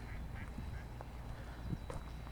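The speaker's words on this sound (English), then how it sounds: "it looks like there are a lot of female mallards here" Mallard ducks at a pond give a few faint, scattered quacks over steady outdoor background noise, heard at a moderate distance.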